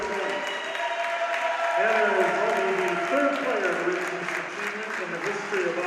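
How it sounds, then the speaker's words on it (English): A high school girls' basketball crowd in a gym applauds a player's milestone, steady clapping that swells midway and keeps going for several seconds, with a commentator talking over it. "Both the Auburndale and the Newman crowd salute the achievement."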